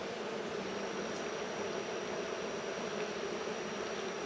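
Honeybees buzz in a steady, dense drone at an open hive, the swarm sound close and continuous with no voices over it.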